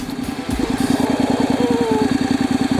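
A motorcycle engine idles close by with a steady, fast, even pulsing throb while the rear tire turns during a chain and tire inspection, and no one speaks.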